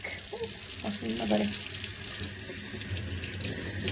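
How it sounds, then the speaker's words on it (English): A kitchen tap running hard while homemade butter is rinsed and kneaded under it, a steady close gush of water with slight shifts as the flow is disturbed, no voices. "You really want to rinse it really good. Knead it a little bit to get that buttermilk out."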